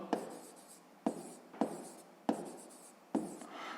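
Pen or chalk writing math notes, five distinct bursts of scratching strokes in a steady rhythm, close and fairly quiet, with no talk.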